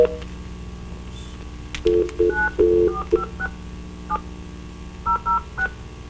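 Touch-tone telephone dialing beeps into a conference call, a quick run of short tones followed by a pause and a few more tones, clear and close over a low background hum.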